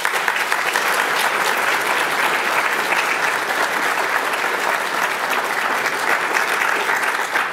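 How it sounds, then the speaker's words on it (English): A large audience at an ethnic business awards ceremony applauds in a dense, even, sustained round of clapping from start to finish, with no talk over it. "How about another round of applause?"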